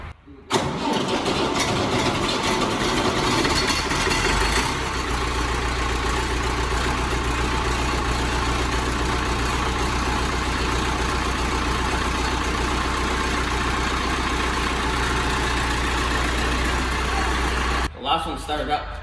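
An old Ford engine cold starts with a brief cranking burst, then catches and settles into a steady loud idle that runs for a long stretch before cutting off near the end.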